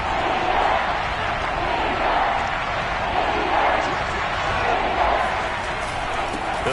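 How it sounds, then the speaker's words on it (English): A football stadium crowd roars steadily before a third-and-short play, a broad continuous wash of noise with no pauses. "this crowd gets out making some noise"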